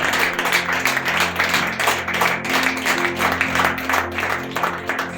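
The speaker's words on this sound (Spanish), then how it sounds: "Den un fuerte aplauso al Señor en esta hora." Congregation at an evangelical men's church congress applauds loudly and continuously, a thick crackle of many hands clapping over low sustained tones in a large hall.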